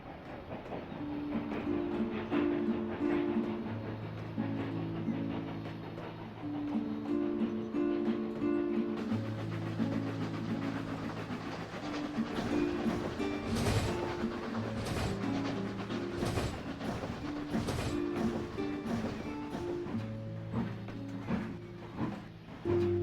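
A train arriving from Wellsworth rolls in with rhythmic clickety-clack over the rails and steady mechanical rumble. Tonal horn-like notes and accompanying music recur throughout, fairly close, with no talk.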